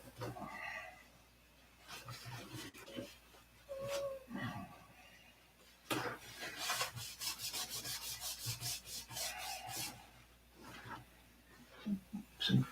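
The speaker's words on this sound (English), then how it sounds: "So the next best thing is sandpaper. I gotta get it off." Sandpaper rubs paint off a toy airplane in steady back-and-forth strokes, with a fast rhythmic run of scrapes in the second half. Brief talk is heard at times.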